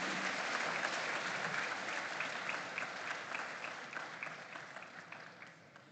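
Round of applause from the audience at a school farm awards grand final, a steady crowd clapping with distinct individual claps standing out, fading gradually toward the end.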